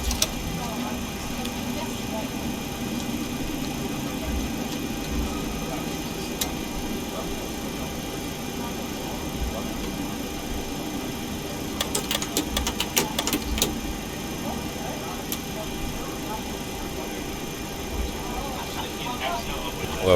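Engine number 1 of a FlyJSim 732 jet airliner spools up during startup in the X-Plane 11 flight simulator: a steady droning whine with faint ticking, running continuously under a voice.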